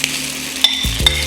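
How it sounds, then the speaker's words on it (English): Beef chow fun rice noodles are stir fried in a very hot wok, giving a loud close sizzle with two scraping stirs of the spatula over a steady frying hiss. "Keep your wok at a high heat and then keep on with the stir frying."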